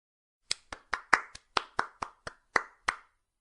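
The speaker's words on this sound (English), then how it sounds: "Clap." Hands clap together about eleven times in a quick, slightly uneven rhythm, each strike sharp and close, with short gaps of silence between claps.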